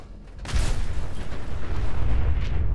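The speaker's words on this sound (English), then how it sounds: "there's like explosions everywhere" Loud rumbling blasts and booming detonations keep going without a break in the Fallout 4 video game as combat rages close by.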